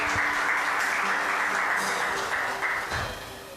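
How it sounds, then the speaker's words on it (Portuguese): Church congregation applauding at the close of a worship service, a steady dense wash of clapping that holds for several seconds, then thins slightly near the end with a faint voice underneath. "Salva de palmas para o Senhor Jesus."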